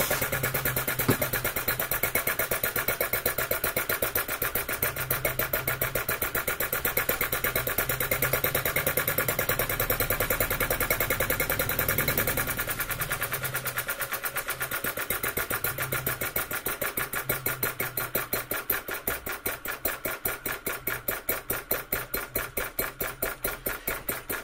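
A RETROL model mill engine runs steadily with a fast, even chuff of firing pulses from its simple carburetor, loud and close throughout, slowing into more distinct beats toward the end.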